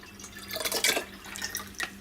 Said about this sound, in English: Now pour your SCOBY in, which will have some kombucha already in it